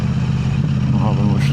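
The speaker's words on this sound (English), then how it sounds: "But for now, I'm just recording the sound of the the exhaust." A KTM 890 Adventure R motorcycle fitted with an Arrow exhaust idles close by with a steady, deep rumble and pulsing low throb, while someone talks briefly over the engine noise.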